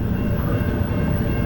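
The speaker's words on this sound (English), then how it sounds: "I think it's iron ore train." A huge iron ore freight train rolls past on a long line in remote Western Australia, a loud continuous low rumble and rattle of wagons heard close by.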